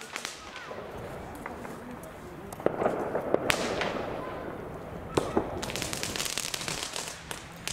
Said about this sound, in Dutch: F-16 van Army Vuurwerk. Die gaan we even afsteken.